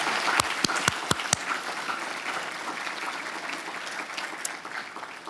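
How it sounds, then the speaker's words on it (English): Several sharp, close hand claps ring out first, then broad sustained audience applause fills a hall at a military leadership talk, fairly faint and steady to the end. "You can clap."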